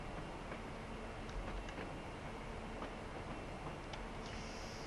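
A train rolls slowly past Brunel's original train shed at Bristol in Train Simulator Classic, a steady low rumble with faint rail clicks, moderately close and without voices.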